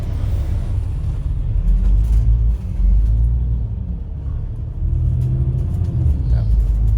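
Road traffic at a tunnel entrance, a loud continuous low rumble of passing cars with swelling engine passes, and a voice faintly present beneath the noise.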